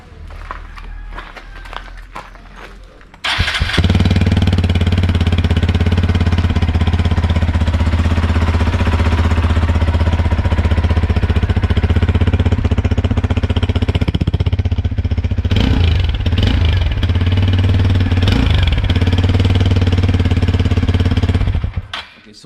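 A modified Xpulse 200 motorcycle fitted with a performance exhaust idles close by, a loud, rapid, thumping throb that starts after a few quiet seconds and holds steady until it cuts off near the end.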